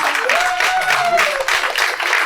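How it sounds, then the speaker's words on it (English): Audience at a Republican treasurer primary runoff candidate forum in San Jacinto County applauding the candidates, a dense burst of clapping with cheering voices and a whoop rising over it. "Give them a round of applause."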